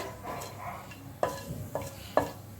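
Cinnamon sizzling in about two spoons of hot oil for tempering, a close crackling fry punctuated by three sharp utensil clinks against the pan, with no talk.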